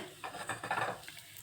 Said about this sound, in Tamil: இங்கே பாருங்கள், நல்லா ஃப்ரை பண்ணிக்கோங்க லைட்டாக